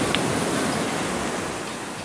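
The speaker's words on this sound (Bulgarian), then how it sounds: "Оу, виж как се дигна тази вълничка, бе." Ocean surf breaks on a black volcanic sand beach in Tenerife, a steady, loud wash of rushing water with a faint wind rumble and no voices.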